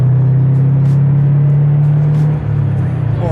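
A Subaru BRZ sports car drives along with a loud, steady low engine drone, its tone dipping slightly near the end as the pitch shifts.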